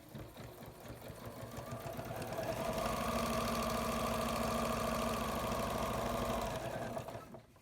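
A sewing machine stitching fabric pieces placed right sides together, its motor humming in a steady, fast rhythmic whir that builds up, holds for several seconds and then stops, with no talk.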